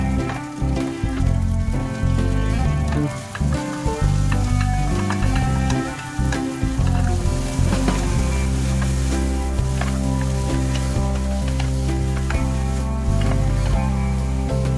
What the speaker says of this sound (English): Keep stirring them, and once they are cooked, add in the crab meat